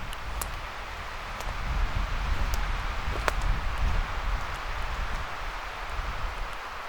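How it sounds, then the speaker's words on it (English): Wind gusting through apple trees in a cleared area, leaves and branches rustling and clattering in a steady broadband wash with a few sharp ticks, swelling slightly in the middle. "I think it's the wind that is clattering these trees"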